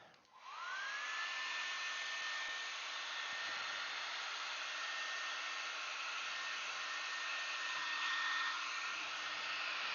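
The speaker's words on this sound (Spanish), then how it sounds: "vamos a secar esto con el secador" A hair dryer blows on a screen-printing mesh screen, switching on with a rising whine and then holding a loud, steady whirring hum throughout, close up, with only a few faint knocks and no speech.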